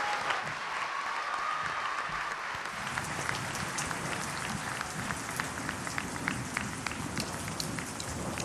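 An audience at a Friulian festival gives a choir sustained applause, dense clapping that builds after a couple of seconds and continues steadily throughout, fairly close and loud.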